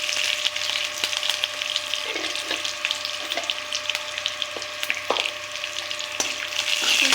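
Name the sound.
frying coriander and turmeric in a pan for radish chutney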